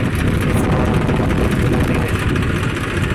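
Tractor engine runs in a farm field, a loud, steady low rumble filling the whole stretch without a break, with no talk.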